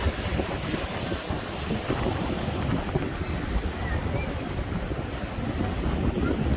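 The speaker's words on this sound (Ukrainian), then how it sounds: "Це ж так класно на хвилі їхати." A boat rides over ocean waves, with steady rushing water and wind buffeting close to the microphone throughout and no clear speech.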